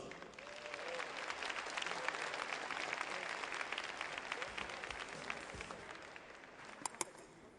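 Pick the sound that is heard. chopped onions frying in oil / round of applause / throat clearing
round of applause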